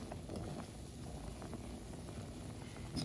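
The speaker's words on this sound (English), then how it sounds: "So let this boil." A pot of gungo peas boils steadily on a stove, a faint, continuous bubbling and simmering hiss with no talking.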